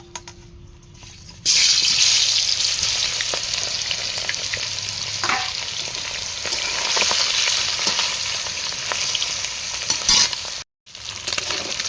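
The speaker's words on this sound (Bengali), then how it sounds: "একদম কড়া কড়া করে ভেজে নিচ্ছি" Steady, loud sizzling of singhi catfish frying crisp in hot mustard oil, crackling continuously for several seconds after a quiet start, with a brief dropout near the end.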